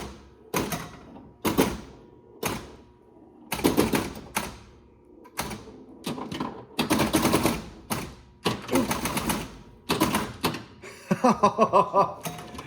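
A 1972 Spanish Eyes pinball machine in play, giving loud percussive mechanical bursts about once a second, with a denser rapid clatter near the end.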